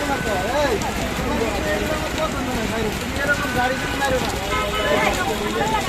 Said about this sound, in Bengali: অনবর বৃষ্টি বন্ধ হচ্ছে না, পানি হাঁটুর উপরে উঠে গেছে